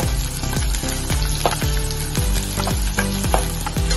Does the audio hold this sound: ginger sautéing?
yes